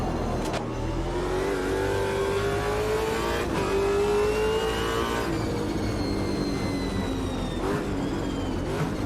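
A race car engine in the Automobilista 2 racing game at Bathurst revs hard and continuously, its pitch climbing and dropping through gear changes, loud and close throughout.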